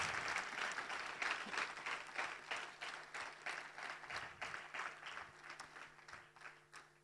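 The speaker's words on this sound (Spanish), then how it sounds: "Era un aplauso al Señor." A church congregation applauds during a sermon service, a fairly quiet, steady patter of many hands clapping for several seconds and gradually thinning toward the end.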